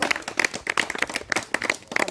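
Audience applause at a roadside magic show, a burst of scattered, fairly close hand claps with uneven rhythm and some faint voices underneath.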